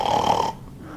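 A human voice imitating snoring, one loud nasal rasping snore for half a second that stops abruptly into near silence, in a talk about sleep apnea.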